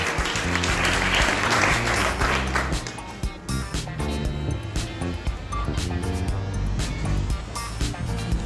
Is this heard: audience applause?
yes